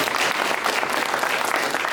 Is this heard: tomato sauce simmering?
no